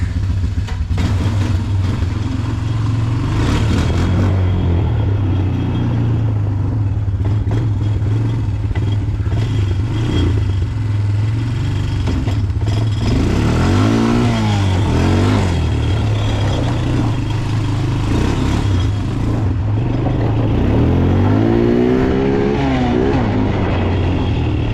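A Honda Recon 200 ATV engine running while being ridden, loud and close throughout, with a steady rough drone that rises and falls in pitch as the revs change.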